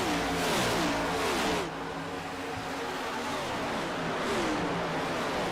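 Race car engines in a stock car racing game at Texas Motor Speedway, a loud pack droning and rising in pitch as cars accelerate, with one car's whine sweeping past midway.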